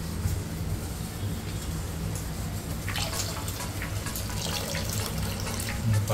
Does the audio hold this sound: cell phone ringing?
no